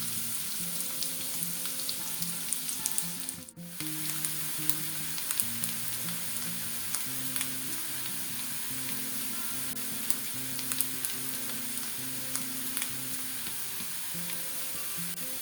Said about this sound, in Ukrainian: Смажимо сало, витоплюємо не дуже сильно, але щоб жирок вийшов. Додаємо цибульку.